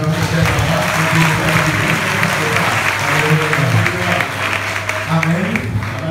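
A church congregation applauds through a steady wash of clapping that lasts the whole stretch, with cheering voices and music tones mixed underneath.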